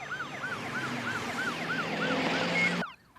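An ambulance siren wails in a fast, repeating rising-and-falling yelp pattern, loud and close over a low engine hum, then cuts off abruptly near the end, with no voices.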